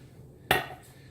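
A spoon or utensil knocking against a bowl while pizza dough is mixed, a single sharp clink midway followed by a brief fading ring, with quiet room tone around it.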